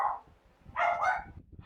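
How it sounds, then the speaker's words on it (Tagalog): A dog barks in a brief burst of two or three close yaps indoors at a house in Rosario, Cavite, with a faint tone before it and quiet room noise between. "Ang ingay ng aso."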